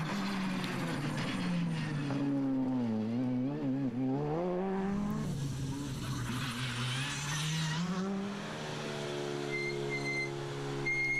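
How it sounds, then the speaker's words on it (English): Rally car at full speed on an opening stage of the Haspengouw rally in Belgium, engine note loud and close, rising and falling through gear changes and revs before easing off near the end. "hitting high speeds on the opening stages of the Haspengouw rally"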